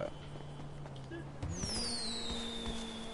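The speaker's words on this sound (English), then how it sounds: "I'm pretty sure I just heard a firework" A distant firework goes off with a faint whistling sweep, heard over a steady low background hum.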